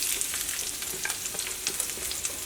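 Thinly sliced onions frying in hot oil for spicy pepper chicken, a dense close sizzle with quick stirring scrapes and small crackles throughout, no voices.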